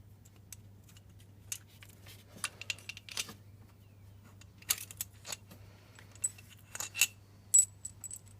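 Four 10mm bolts being removed from the EGR cooler of a Volvo 2.4 D5 diesel, heard as sparse faint metallic clicks and clinks of tools and hardware over a steady low hum.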